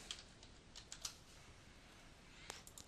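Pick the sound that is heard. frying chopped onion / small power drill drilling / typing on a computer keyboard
typing on a computer keyboard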